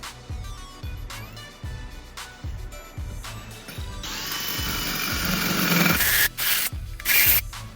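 A wood hole saw cuts through a lubricated metal or steel go-kart wheel rim, giving a harsh grinding and rubbing drone that swells over the second half against a steady rhythmic thump, with brief pauses near the end.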